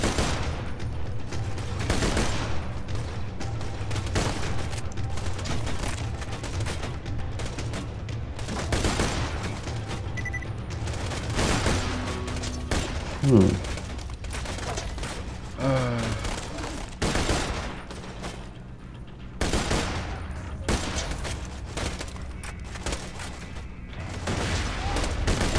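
Rapid bursts of gunfire from an inaccurate weapon in the video game Borderlands 2 repeat throughout. Loud, dense volleys with short pauses sit over game effects, and a voice speaks faintly underneath.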